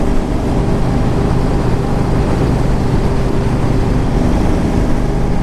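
A 2009 Yamaha V Star 1300 motorcycle, a belt-driven 1300 cc cruiser, pulls hard to pass traffic, its engine a steady, loud low drone under heavy wind rush throughout.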